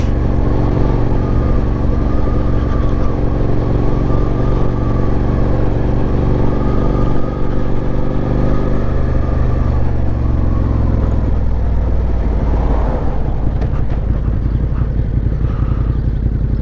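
A Suzuki SV650 motorcycle engine, running slightly unsmooth, drones steadily up close, its pitch rising and falling slightly as the bike rides along.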